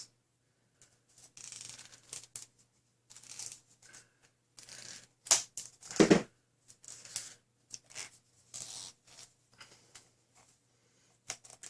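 Tape is pulled and pressed onto a toy blaster in short bursts of ripping and crinkling, quiet and close, with pauses between strips and one louder tear near the middle.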